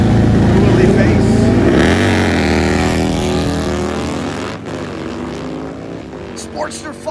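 A Harley Sportster motorcycle roars hard at a drag strip, its loud engine note rising and fading as a race commentator talks over it.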